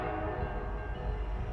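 Westbound Canadian National freight train, the CN L571, passing at Cedar Falls, Iowa, in February: a loud, steady rumble of wheels and cars that is continuous and close, with a faint horn tone under it and no talk.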